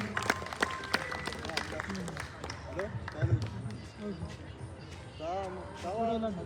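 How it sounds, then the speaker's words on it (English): A tournament ceremony audience claps in scattered, irregular bursts, fairly faint, mixed with a chattering crowd and voices talking throughout. "Can I have a huge round of applause please?"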